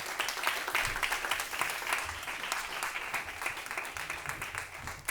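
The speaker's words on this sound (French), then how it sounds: "que je vous prie aussi d'applaudir très fort." An audience at a round-table discussion applauds a newly introduced guest, producing a thick, continuous wash of many hands clapping that holds steady from start to finish.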